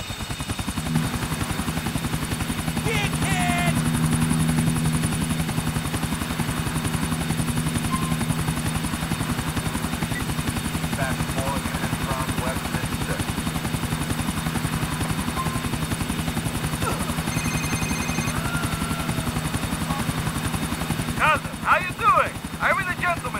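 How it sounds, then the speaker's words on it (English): Helicopter flying in the video game GTA IV: a steady, loud rotor thump with a constant engine whine throughout, while someone talks over it. "But I'm in a helicopter!"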